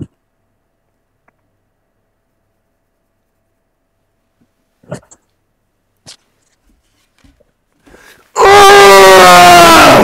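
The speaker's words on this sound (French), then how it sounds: "Attends, regarde, je vais crier, moi." A person lets out a loud, sustained scream that starts abruptly near the end after mostly near-silence with a few faint clicks, and keeps going at full volume until the clip ends.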